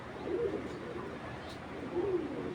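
A female Giribaz pigeon gives two soft, low coos, one early and one near the end, heard faintly over steady background noise.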